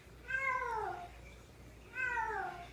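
A house cat gives two clear, drawn-out meows about a second and a half apart, close by in a quiet room.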